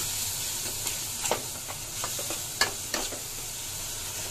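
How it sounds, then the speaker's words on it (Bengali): Spices being stirred and sautéed in a frying pan, a steady close sizzle broken by scraping stirs and occasional sharp clinks of the utensil against the pan. "এখন মশলাটা কষাবো"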